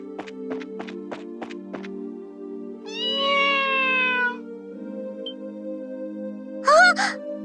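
A cat meows in the video game Trails in the Sky SC, with one drawn-out meow and then a shorter, sharper cry over steady game music and soft ticking taps.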